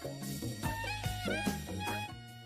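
Old-school jazzy hip hop beat with a steady drum groove and warm melodic chords, fairly quiet and brief, heard alone without talk.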